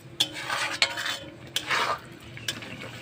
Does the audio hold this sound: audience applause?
no